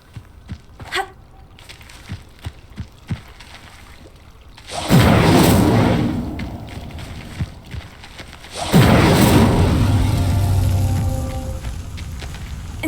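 The Incendio fire spell in Hogwarts Legacy igniting pyres: two loud roaring whooshes of flame, each swelling and sustaining for a few seconds, following quieter footsteps and small clicks.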